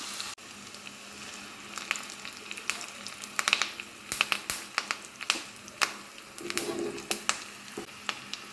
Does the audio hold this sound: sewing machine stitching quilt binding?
no